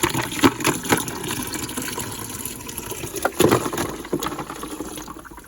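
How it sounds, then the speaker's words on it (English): Ice and water are poured into a cooler in a 10x12 shed, giving irregular splashes and clinks with two louder bursts, close by and without talk. "So I've actually brought out some ice and some water to put in there, and just pour it in there."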